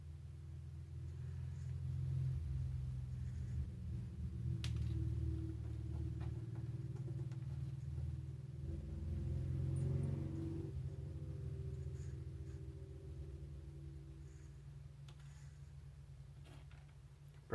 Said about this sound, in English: Probably hear the motorcycles outside.